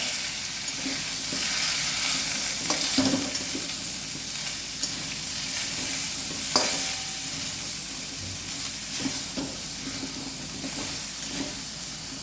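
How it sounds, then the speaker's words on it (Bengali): Large pieces of pointed gourd fry in hot oil in a pan, giving a loud, continuous close sizzle and hiss. Occasional stirring scrapes and light clinks of a spatula cut through it, with no talking. "একসঙ্গে পটল আলু একসঙ্গে ভেজে নেবো।"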